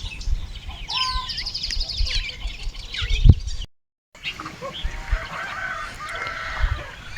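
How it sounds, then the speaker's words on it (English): Geese out on the grass of a kitchen garden give clucking, honking calls, with bright chirps around them and faint voices now and then. "even our goose are enjoying the green"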